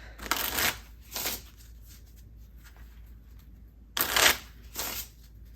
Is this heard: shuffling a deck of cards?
yes